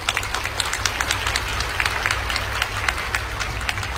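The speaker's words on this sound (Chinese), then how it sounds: "接着大家掌声，谢谢 B。" Applause at a corporate company event: a sustained round of many hands clapping at moderate level, somewhat distant, over a low steady room hum.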